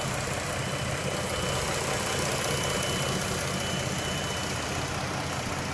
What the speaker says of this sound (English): Let me turn this mic around where y'all can hear the engine